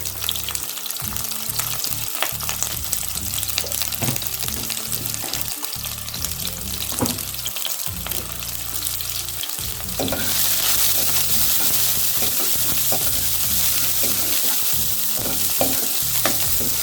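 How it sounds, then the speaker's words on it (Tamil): Shallots and cumin fry in hot oil after mustard seeds have popped, making a steady close sizzle with frequent stirring scrapes that grows louder and hissier partway through, with no talking. "கடுகு வெடிச்சது உடனே வந்து சின்ன வெங்காயம் ஒரு 10-12 எடுத்து வச்சுருக்கேன்"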